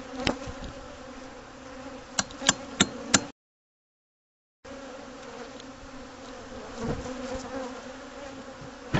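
Bees buzzing steadily during a hive removal from a chimney, a continuous insect drone with a few sharp clicks and knocks, cut by a short gap of silence before the buzzing resumes.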